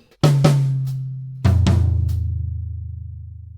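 Drum kit playing bar 5 of a Trinity grade 4 piece: a few loud cymbal and drum hits with a low sustained ringing tom underneath, close and alone.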